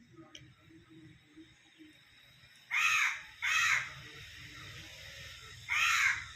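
A crow caws three times, loud and close, in harsh drawn-out bursts with pauses between, over a quiet outdoor background.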